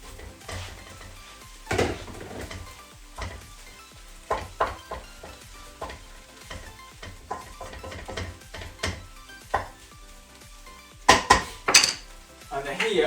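Pineapple fried rice being stir-fried with vegetables in a pan, a steady sizzle under repeated scraping and clanks of a spatula against the metal, close and fairly loud.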